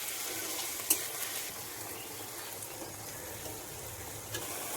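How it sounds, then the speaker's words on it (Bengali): Boiled jute greens being stirred into a hot sizzling tempering, with a soft steady frying hiss throughout and a few faint clinks of the stirring utensil, close and quiet with no talk. "ফোড়নের সঙ্গে সেদ্ধ করা শাকগুলো মিশিয়ে নিচ্ছি।"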